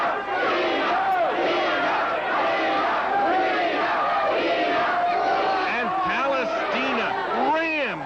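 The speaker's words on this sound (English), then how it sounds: "The crowd picks up the chant." A vintage 1987 women's wrestling arena crowd chants and yells continuously, a dense roar of many voices with rising shouts and whoops, loud and sustained throughout.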